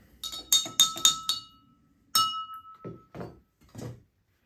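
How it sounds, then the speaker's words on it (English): A spoon clinks rapidly against a glass while stirring orange juice, a quick burst of bright chimes followed by a few softer, scattered taps and thuds, close up and with no talk. "We're going to give that just a real quick stir to mix it up."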